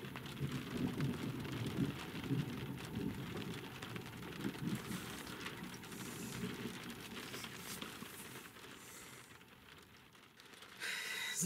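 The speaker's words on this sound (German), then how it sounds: "Der große Regen ist jetzt über uns." Heavy rain pours down steadily during a thunderstorm, a dense continuous hiss with low rumbling beneath it, with no voices.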